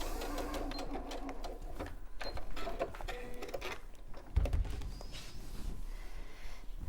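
A domestic sewing machine runs in short whirring bursts while stitching a curved seam, close by, with faint voices in the background.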